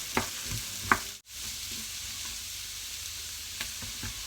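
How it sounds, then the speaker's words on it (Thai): Celery stalks frying in a pan with butter, onion and garlic, a soft steady sizzle with a few light stirring knocks and scrapes, close but fairly quiet, with no talk. "นำลงไปผัดกับเนยแล้วก็หอมใหญ่แล้วก็กระเทียมนะคะให้หอม"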